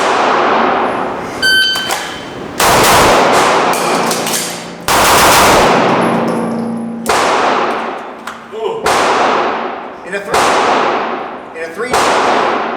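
Pistol shots fired in a timed shooting drill, loud and close: a quick cluster of cracks, a pause, then a steady string of single sharp reports with ringing decay, a few spaced about a second apart.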